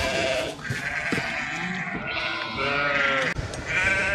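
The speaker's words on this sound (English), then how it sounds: "it's just letting the ewes out of that pen and counting them" Ewes bleating loudly and close as they are let out of a pen during lamb marking, several overlapping calls one after another across a few seconds.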